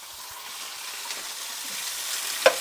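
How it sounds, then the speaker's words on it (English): Asparagus and other vegetables sizzle in a very hot frying pan, a continuous crackling hiss with a small pop or clink near the end. "Look at it, it's sizzling away."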